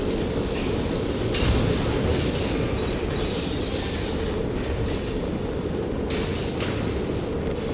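A train in the Poppy Playtime video game rumbles loudly and steadily, with rolling rail noise that keeps going for several seconds and no talking over it.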